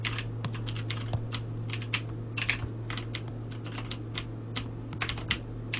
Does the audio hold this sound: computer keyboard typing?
yes